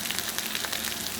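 Mixed fried rice sizzles in a hot pan with a steady, close, crackling hiss, unbroken and alone throughout.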